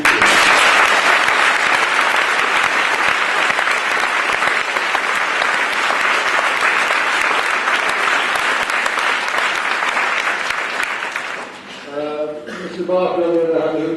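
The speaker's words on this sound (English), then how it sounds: "So how about a round of applause for your tutors?" A school leavers assembly crowd applauds its tutors with loud, sustained clapping that fills the room for about eleven seconds, then fades as a voice begins speaking.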